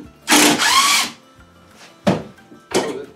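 A power drill backs screws out of an outdoor Christmas decoration fixed to a building: a longer whirring burst first, then two shorter bursts, loud and close, with quiet gaps between.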